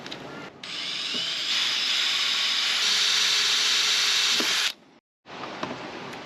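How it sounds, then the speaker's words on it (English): A power drill whines steadily for several seconds at close range while pilot drilling holes, stops briefly, then starts up again. "Now we need to pilot drill these 3 and then drill them out to an 8mm diameter."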